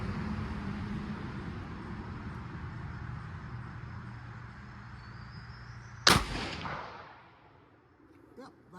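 One loud, sharp rifle shot from an MDT Oryx chassis rifle on an outdoor range, cracking suddenly after several seconds of steady background rumble and trailing off in a brief echo.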